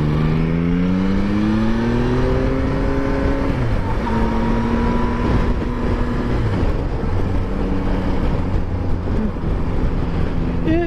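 Yamaha Tracer 9 GT motorcycle engine revs rise steeply during an overtake, then shifts and settles into a loud steady drone with wind rush, close to the rider.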